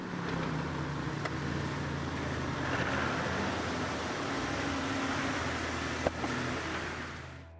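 Vehicle pulled out with a stretchy kinetic recovery rope: a steady, loud engine drone with broadband rumble runs throughout, one sharp thud near the end, then fading.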